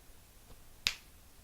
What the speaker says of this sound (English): I can't snap my fingers.